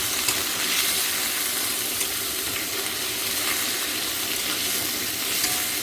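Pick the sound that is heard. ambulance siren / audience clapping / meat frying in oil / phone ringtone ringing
meat frying in oil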